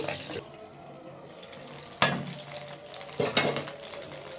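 Shrimp and fish paturi wrapped in bottle gourd leaves are lowered into hot oil, giving a steady low sizzle with a few louder bursts of spitting and clatter as the parcels go in.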